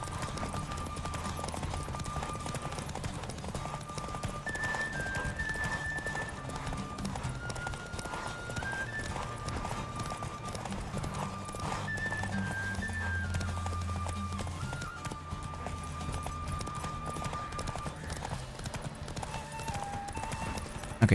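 Roach the horse gallops in The Witcher game, a steady rhythmic clip-clop of hooves running throughout beneath melodic game music, fairly faint overall.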